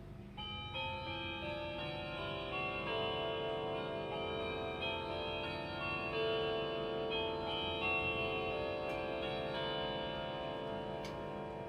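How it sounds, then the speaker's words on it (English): A clock plays the three-bar St Michael quarter chime for a quarter to the hour, with sustained bell-like tones ringing over a steady ticking, close and loud, and no voices. "So we'll get the 3 bars of the St Michael chime."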